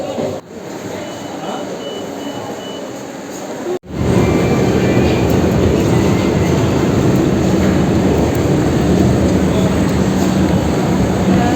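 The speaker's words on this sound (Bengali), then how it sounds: "দমদম থেকে মেট্রো ধরে যাবো" Loud, steady rumble of a metro train at Dum Dum station platform, with a sudden jolt partway through and a constant roar afterward, no clear speech.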